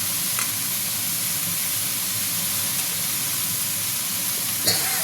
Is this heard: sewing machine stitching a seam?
no